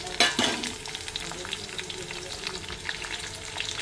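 Shallots and curry leaves dropped into hot oil, a loud crackling burst at first that settles into a steady bubbling sizzle with light stirring, no voices.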